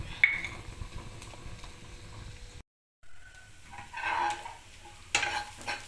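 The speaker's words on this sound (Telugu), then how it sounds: "ఆయిల్ వేడైన తర్వాత ఈ ఉల్లిపాయలు ఎర్రగా వేయించుకోవాలి" Onions frying in a spoonful of hot oil make a faint, steady sizzle with occasional stirring scrapes; the sound cuts out briefly midway, then returns with a louder crackle.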